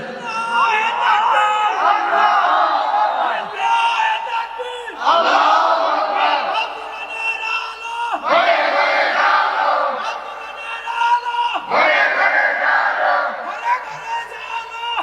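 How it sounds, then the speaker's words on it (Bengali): Crowd at a Bengali religious gathering roaring the Takbir chant in four loud, repeated bursts, each a massed shout lasting a few seconds with short pauses between, close and dominant. "তাকবীর দেন তো একজন দাঁড়ান"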